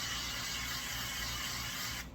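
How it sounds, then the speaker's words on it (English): Cooking spray hisses steadily onto chicken parmesan in an air fryer, one continuous close, loud burst lasting about two seconds before cutting off. "Now I'm going to spray this so it'll get golden brown."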